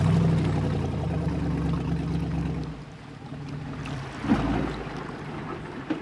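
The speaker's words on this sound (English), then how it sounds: "There's the tug, Charlie." A low, steady engine rumble of a tugboat churns through wind and water noise, fading slightly midway before picking up again.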